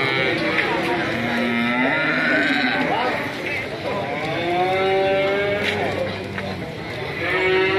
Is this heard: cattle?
yes